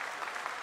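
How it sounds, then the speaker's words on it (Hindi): Steady applause fills a mission control room during a lunar lander's descent, a continuous dense patter of many hands heard alone for a brief moment. "Lot of applause indicates that till now the performance has been nominal."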